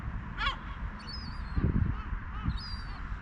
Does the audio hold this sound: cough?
no